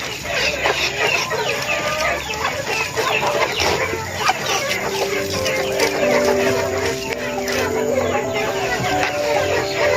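Free-range village chickens cluck busily while being fed, a close, continuous flock chatter with some longer calls rising over a noisy yard background.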